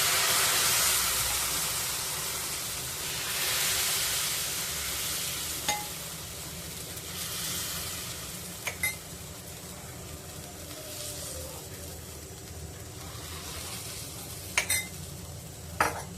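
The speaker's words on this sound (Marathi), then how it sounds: "तवा तापलेला आहे आता त्याच्यामध्ये घावण घालून घेऊया" Jowar ghavan batter sizzles on a hot griddle with a steady frying hiss that gradually softens, broken by a few sharp clicks of a utensil against the pan.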